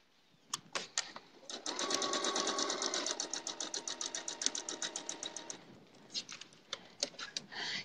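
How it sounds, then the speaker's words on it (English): Long arm quilting machines run inside a quilt shop, giving a steady rapid stitching patter with a burst of fast rhythmic clicks in the middle and sharper intermittent taps toward the end, with no talk. "So you may even hear some long arm machines running."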